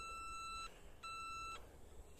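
A metal detector held over a large buried object gives two clear high electronic beeps, each about half a second long, fairly faint against a soft hiss of outdoor background.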